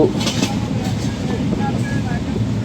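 Steady rumbling noise of the Ekota Express on rails between Dhaka and Panchagarh, running at about 80 to 85 km/h, a continuous low roar with faint squeals, heard from inside the moving carriage.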